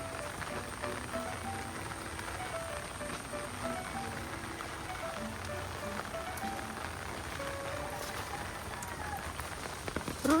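Heavy typhoon rain pours down outdoors in rural Sablayan, Occidental Mindoro, a dense, continuous hiss of drops on surfaces at moderate level, with faint voices and a brief louder clatter at the end.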